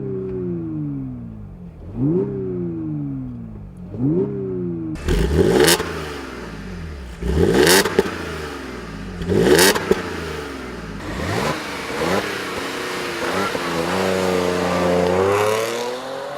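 A 2014 Audi S4 Quattro engine revs up repeatedly in several rising sweeps, then accelerates hard through the gears with loud climbing engine tones and wind noise, close by.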